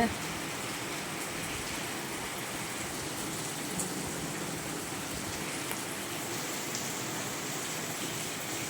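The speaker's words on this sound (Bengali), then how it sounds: "এই যে বৃষ্টি শুরু হয়ে গিয়েছে বৃষ্টি হচ্ছে" Steady rain falls on a city on a dark morning, a soft continuous hiss of drops on surfaces at moderate distance, with faint voices in the background.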